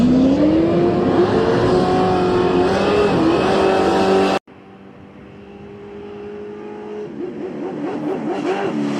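Drag racing cars, a Mustang against a Chevy, roar loudly at full throttle, then cut off sharply before a second engine rises and revs with rising pitch, sustained and close throughout.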